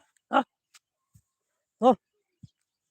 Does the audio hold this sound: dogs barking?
yes